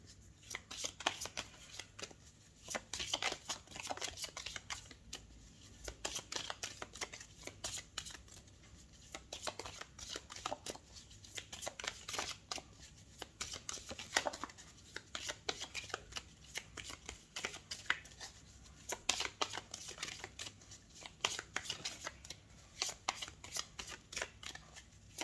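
Tarot cards being shuffled and drawn, long stretches of quick riffling card flutters in repeated bursts with short gaps between, close and fairly soft, no talking.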